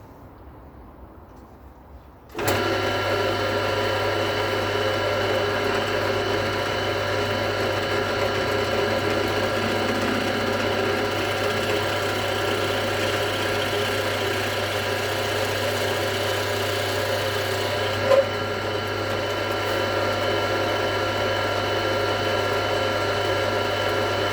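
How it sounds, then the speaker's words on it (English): A power drill starts up abruptly and runs with a steady, even whine for a long stretch while drilling a countersink hole in a resin guitar part, with one brief click partway through. "You can see that it is drilling a nice hole"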